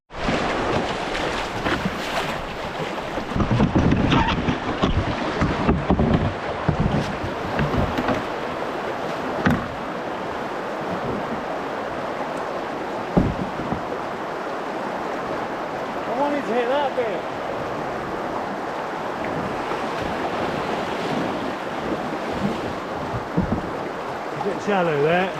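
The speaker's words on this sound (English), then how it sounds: "we're just coming up on Knockando Rapids, which is probably the most famous rapid on the River Spey" Rushing river water and splashing around a canoe drawing near Knockando Rapids on the River Spey, a continuous close wash with occasional louder surges, with people talking over it.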